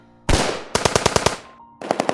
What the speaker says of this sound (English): I suddenly heard gunfire outside